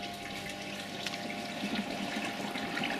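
Air bubbling up through the filter chambers of a koi pond, a steady close watery gurgle and churn running throughout without pause.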